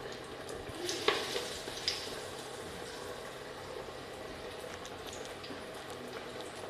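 Paruppu vadai, a crispy masala lentil fritter, deep-frying in oil over a medium flame, giving a steady soft sizzle and bubbling throughout with a few brief louder crackles near the start.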